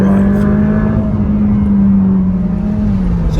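Ferrari F8 Spider accelerating hard up a steep hill road, a loud, close engine note holding a strong steady tone that sags slightly as it works through the gears.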